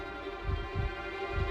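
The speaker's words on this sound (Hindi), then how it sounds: "विवान के धड़कन की आवाज सबसे पहले उस गोले में से आई थी" Heartbeat sound effect from a TV show, seeming to come out of a ball: low, soft thumps in a slow, regular rhythm over a steady tonal hum.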